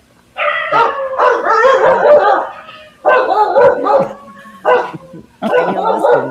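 A dog barks loudly and close in several rapid bursts, with short pauses between volleys.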